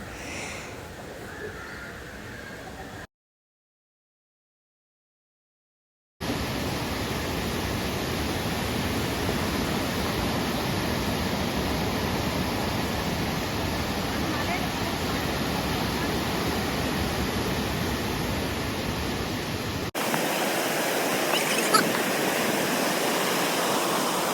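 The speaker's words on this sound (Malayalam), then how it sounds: "വെള്ളം കാണുമ്പോൾ നിങ്ങൾക്ക് മനസ്സിലാവും കേട്ടോ എത്രത്തോളം കലങ്ങി മറിഞ്ഞാണ് ഇങ്ങനെ ഒഴുകി വരുന്നതെന്ന്" Turbulent, muddy river water rushes at Meenmutti waterfalls in Kallar, a steady loud broadband roar that drops out for a few seconds near the start and returns, with no voices.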